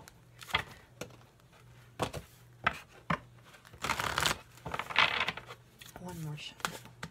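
Tarot cards being shuffled in several short bursts of riffling and slapping, fairly close and moderately loud, with brief pauses between, over a faint steady hum.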